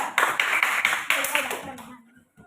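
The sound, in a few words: class applauding group 3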